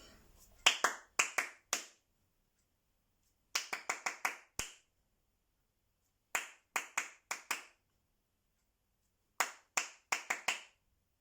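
Sharp hand claps in short rhythmic bursts of four or five, separated by pauses, from a music lesson on rhythm and body percussion; crisp, close and alone against near silence.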